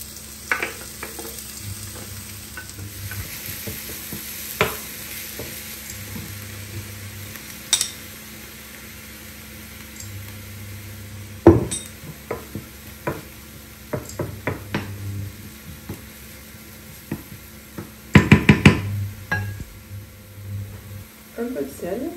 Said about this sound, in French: je garde le peu d'huile qu'il y a dans la poêle et je rajoute les oignons.